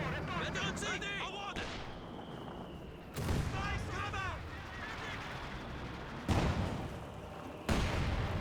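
Artillery barrage in the real-time strategy game Company of Heroes 2: several heavy, booming shell impacts break through steady battlefield gunfire and rumble, with a voice talking over the action.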